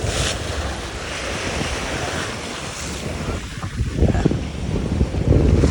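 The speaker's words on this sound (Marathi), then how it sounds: "इथं लाटा पेटा उडतात" Waves rush and splash nearby amid steady wind noise, building louder toward the end with broad, churning surges.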